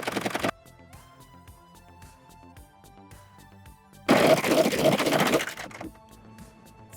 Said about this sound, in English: So I'm just serging these 2 layers together.